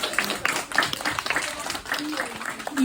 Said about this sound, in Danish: Skal vi ikke lige klappe af dem en gang